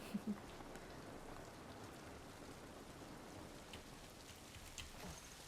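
Steady rain falls in The Last of Us video game, a continuous soft hiss of drops with a faint low rumble beneath, heard alone with no talk over it.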